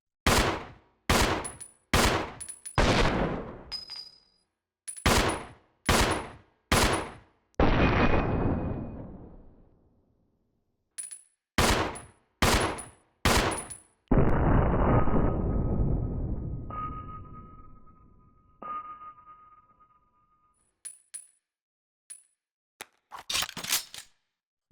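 Pistol shots from Resident Evil Zero, fired at base value with no custom parts: loud, sharp reports in spaced bursts of three to four, some trailing into longer reverberant decays, separated by silent gaps.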